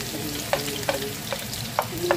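Onions sizzle steadily in a hot pan as a utensil scrapes and stirs at a regular beat, close and clear, with no one talking.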